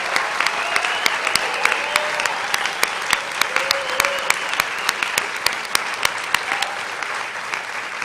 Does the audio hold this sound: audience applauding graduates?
yes